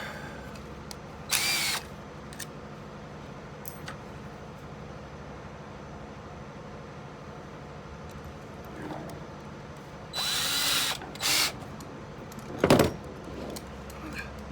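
A drill drives hidden-fastener screws into decking in a few short, sharp whirring bursts, separated by quiet stretches of faint background hum.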